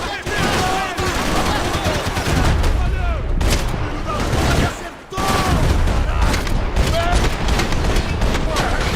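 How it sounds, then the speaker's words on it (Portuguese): Dense, rapid gunfire crackles almost nonstop in loud volleys in the video game Max Payne 3, with one brief pause midway and voices shouting underneath. "Tiros frequentes!"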